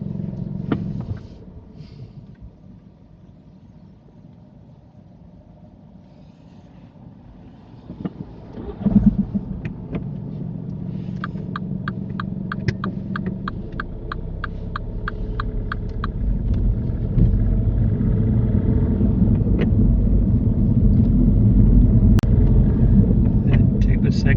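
A car pulling away on a mock driving test, an engine rumble that is quiet at first and then swells into a steady, louder drone as the car gets moving, with some clicking and faint knocks.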